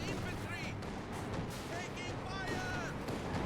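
Booming artillery fire from an SU-76 self-propelled gun striking its target during a Company of Heroes 2 match, dense rumbling blasts amid continuous battle noise, with a voice talking over it.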